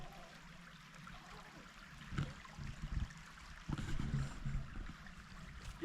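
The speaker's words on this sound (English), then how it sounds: "This creek is really nice and calm." A calm creek flowing through Allegheny National Forest, a soft steady wash of water with a few gentle swells and splashes, quiet and close, with no voices.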